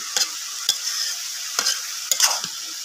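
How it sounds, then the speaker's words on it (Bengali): Vegetable fry of potato, beans and carrot being stirred in a pan on a clay stove, a few separate scraping strokes spaced through a soft, steady background hiss. "ভাজি নাড়াচাড়া দিতেছে"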